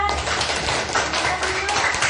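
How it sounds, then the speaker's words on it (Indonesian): A classroom of students claps for group 4, a steady, fairly loud patter of many hands lasting the whole stretch without a break. "tepuk tangan dulu buat kelompok 4"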